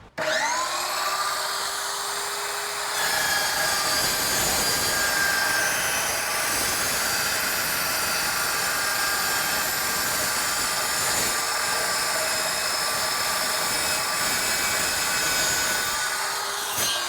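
An Evolution EVO SAW 380 steel chop saw making a 45-degree mitre cut through steel, a loud sustained high-pitched whine and grinding roar that runs steadily for the whole stretch with no talk.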